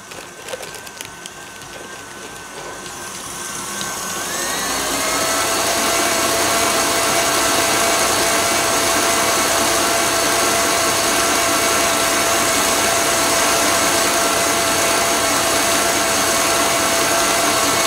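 Electric mixer whipping egg whites and sugar into a firm meringue, starting softly with light clatter then ramping up into a loud, steady whirring drone that holds to the end, with no talk.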